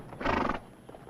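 Horses resting on a Western trail give one loud, close neigh or snort burst lasting about half a second, followed by quiet with faint low movement sounds; no talking.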